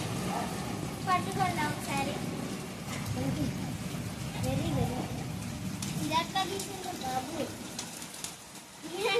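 Rain falling during a summer shower amid flash flooding, a steady wash of patter beneath people talking throughout, with voices prominent over the continuous rainfall.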